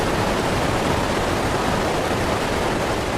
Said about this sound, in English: The water is really loud in this game.